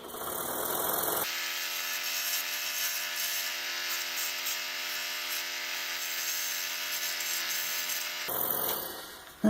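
A power tool trims wooden dragon puzzle pieces, a steady loud mechanical whir running for about seven seconds between quieter stretches at the start and end.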